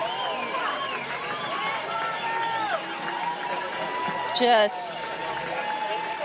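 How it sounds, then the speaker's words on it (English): Spectators at the High Lonesome 100 ultramarathon finish cheer and chant a runner's name in a busy crowd din with overlapping voices and shouts, with a brief bright metallic burst near the end that fits a cowbell. "You can hear everyone chanting his name, cheering him on. The cowbell's going wild."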